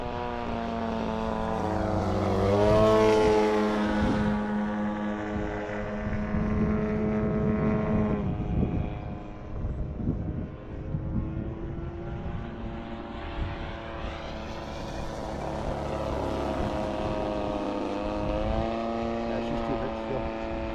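A blue and yellow 50cc radio-controlled biplane flies outdoors near a tree line, its engine buzzing steadily and rising and falling in pitch as it passes closer and farther, with people talking over it.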